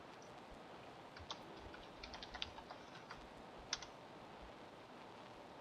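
Login details typed on a computer keyboard, a quiet run of light key clicks in uneven bursts over a low steady room hum.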